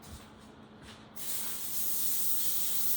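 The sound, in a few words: olive oil spray on parchment paper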